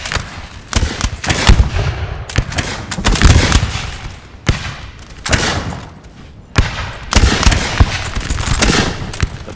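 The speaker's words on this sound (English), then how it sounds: "Musket volleys going off" Massed musket volleys from a Napoleonic-era battle in a strategy game, with crackling bursts of overlapping gunfire rolling repeatedly in waves, loud and dense with brief lulls between salvos.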